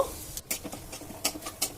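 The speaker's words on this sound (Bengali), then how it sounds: "এবারে ওই তেলেই 3টে তেজপাতা আর হাফ চা চামচ গোটা জিরে ফোড়নের জন্য দিয়ে দেব। ফোড়নটা কয়েক সেকেন্ড ভাজা ভাজা করে নেব।" Bay leaves and whole cumin seeds are briefly tempered in hot oil for a Bengali katla fish curry, heard as faint, patchy crackling and spattering bursts with light stirring.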